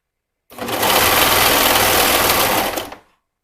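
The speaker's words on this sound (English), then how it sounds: "I'm going to be sewing mine with my serger." A serger sews princess seams on fabric in one continuous, loud, close whir lasting a few seconds, starting and stopping abruptly with silence on either side.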